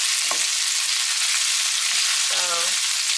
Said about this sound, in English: Make sure to stir it because you don't want your onions get burned.